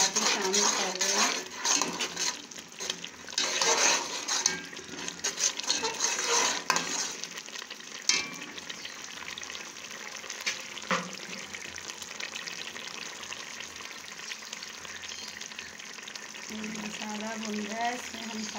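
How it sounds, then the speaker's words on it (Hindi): Masala spices and coriander sizzle in a pan for bariyan aloo while a utensil scrapes and clinks against the metal as it stirs, with someone talking intermittently over the cooking. "देखें, मसाला भुनना शुरू हो गया है, और मैं इसमें थोड़ा सा धनिया साथ ही शामिल कर रही हूँ।"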